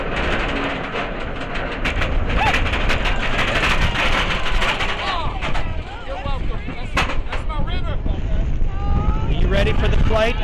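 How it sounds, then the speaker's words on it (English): Strong wind roars past the rider on the Griffon floorless dive roller coaster at Busch Gardens, a loud, continuous buffeting rush with rumbling track noise and excited voices calling out over it. "Oh, the wind!"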